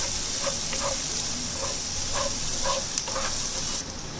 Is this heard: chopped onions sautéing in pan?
yes